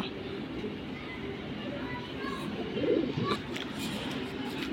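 A pair of silver bezi pigeons cooing softly and steadily at close range, low throaty calls repeating over a constant hum of background noise, with a brief louder flutter or coo midway.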